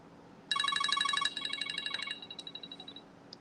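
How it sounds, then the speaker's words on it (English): A mobile phone rings close by with a rapid, pulsing electronic ringtone that repeats its bright beeping pattern for a few seconds, then softens and fades out. "My phone was going off."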